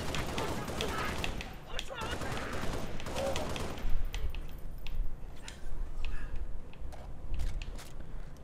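Rapid bursts of automatic weapon fire ring out in the sci-fi shooter Halo Reach, with sharp, repeated shots in irregular clusters over a busy background of game effects.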